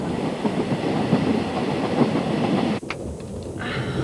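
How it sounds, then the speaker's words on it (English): Rhythmic rumble and clatter of train wheels on track, heard from inside a carriage of the Eastern and Oriental Express, steady and close, with a brief clunk near the end. "The double glazing does keep out some of the track noise, but inevitably carriages squeak and doors rattle."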